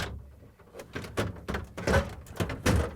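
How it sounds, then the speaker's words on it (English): A plastic pantry drawer in a Samsung refrigerator is pulled and lifted out, giving a series of close knocks, rattles and sliding thunks at an irregular rhythm. "We need to pull out the pantry drawer"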